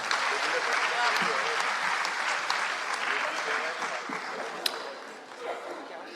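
Audience at a Holi kavi sammelan poetry gathering applauds a poet, a dense, steady wash of clapping across the whole stretch that thins slightly toward the end, with voices faintly mixed in.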